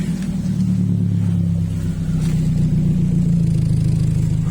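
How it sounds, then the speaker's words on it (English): Muscle car engine fitted with an HKS exhaust muffler, idling with a steady deep rumble that builds slightly, loud and close with no talking. "Turn the engine on."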